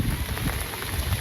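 Steady rain falls in a rural village setting, a dense continuous patter on surfaces that stays even and fairly close throughout, with no voices over it.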